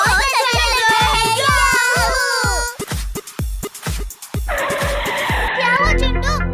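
A cartoon car skids to a sudden stop with a loud, drawn-out tire squeal over bouncy music, followed by cartoon voices chattering.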